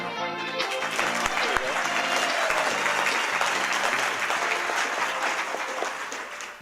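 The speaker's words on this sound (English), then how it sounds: "The applause you heard, not for me" Steady applause from a large crowd fills the room, a continuous dense clatter of clapping that holds level throughout and stops abruptly at the end.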